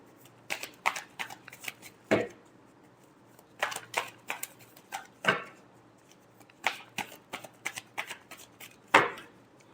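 Tarot cards being shuffled by hand, a run of crisp riffling flicks and slaps in irregular bursts, close and fairly loud with no talking.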